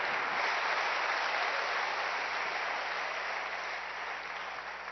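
A church congregation claps steadily for the Lord during a sermon, a dense, continuous patter of many hands, moderately distant and fading slightly toward the end.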